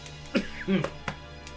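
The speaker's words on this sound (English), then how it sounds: "About to cough with that one." A single person coughs and clears their throat in a few short, close bursts, with quiet pauses between them and no other sound around.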